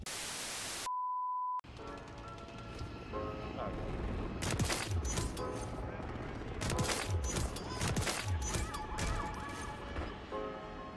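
Shotgun blasts fire in Call of Duty: Modern Warfare 3 over busy game noise, several loud sharp bursts spread through the second half after a brief test tone and a silent gap.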